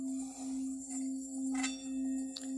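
A machine-made Japanese Tibetan singing bowl gives a steady, pure sustained ring that holds unbroken through the whole stretch. It is faint, with light rustling noises over it.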